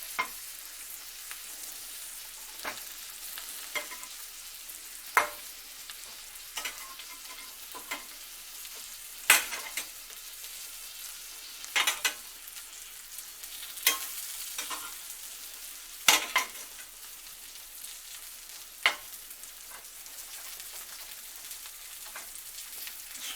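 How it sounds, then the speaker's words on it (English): Shrimp sizzle steadily in a hot frying pan, with a dozen or so sharp clinks and scrapes as they are stirred and turned, fairly close and with no talking. "See if we're getting browned on that side. Yeah. Back to the other side."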